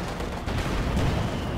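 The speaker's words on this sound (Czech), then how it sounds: "Tenhle výbuch byl taky velice nepříjemný" Explosion damaging a Panther tank's engine in the World War II strategy game Company of Heroes 2: a dense, loud rumbling blast that holds throughout the short moment, close and full.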